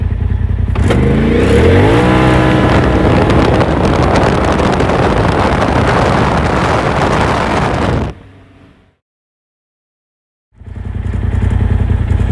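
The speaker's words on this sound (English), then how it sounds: "So we are going to do a 0 to 60 on asphalt in four-wheel drive right now." A 2021 Polaris RZR XP Turbo side-by-side with Trinity exhaust and AA clutching accelerates hard from 0 to 60 on asphalt in four-wheel drive, engine roaring and climbing loudly through the gears with wind noise, then cutting out abruptly before resuming.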